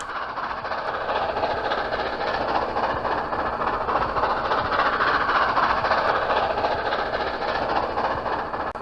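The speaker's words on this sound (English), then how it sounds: "That train we're looking for just passed in front of me doing about 65." A train rumbles past continuously, a loud steady roar of wheels on rails with faint rhythmic clatter, no voices.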